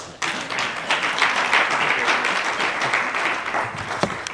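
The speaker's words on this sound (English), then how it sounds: "A warm round of applause for Ntate Baloyi." A summit audience at the North West Media & Sustainability Summit breaks into a warm round of applause, many hands clapping in a dense, sustained patter that holds steady throughout before thinning slightly near the end.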